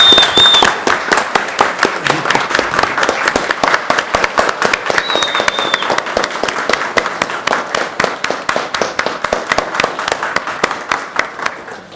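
Applause in a city council chamber, loud and close, with sharp individual claps forming a quick, uneven rhythm that continues for the whole stretch and tapers slightly at the end.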